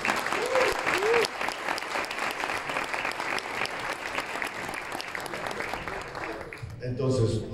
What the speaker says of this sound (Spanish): doble aplauso para este equipo de Ecuador